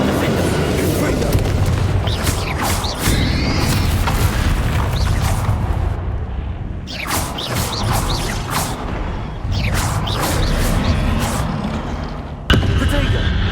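Bombarda and Confringo explosion spells detonate during a Hogwarts Legacy video game battle, with several heavy booming blasts arriving every few seconds over a continuous roar of combat effects.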